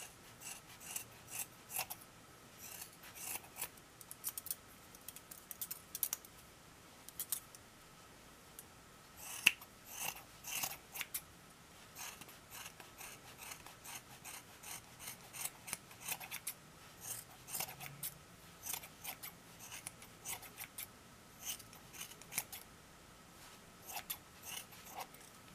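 Scissors snipping through yarn while trimming a large crochet pom-pom: many short, crisp cuts in irregular bursts, close and fairly quiet, with no talk.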